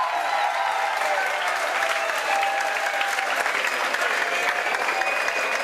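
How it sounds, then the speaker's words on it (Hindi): A crowd at a youth Congress gathering claps loudly to welcome a guest, a steady dense roar of applause that holds evenly throughout. "जोरदार तालियों से इनका स्वागत करें"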